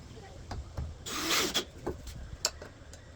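A power driver sinks a screw into a wooden workbench in one short whirring burst of about half a second, surrounded by scattered light clicks and knocks at close range.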